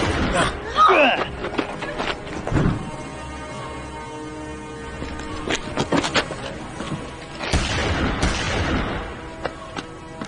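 Gunshots ring out in a Hindi-dubbed fantasy action film scene: a few sharp, loud bangs scattered among rumbling effects and movement, with voices speaking between the shots.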